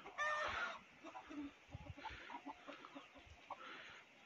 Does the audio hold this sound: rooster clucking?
yes